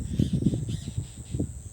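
Common myna birds bathing in an open field beside crops, giving rough, harsh chattering calls in short bursts, fairly close and moderately loud with a low background rumble.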